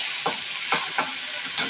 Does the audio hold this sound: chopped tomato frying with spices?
yes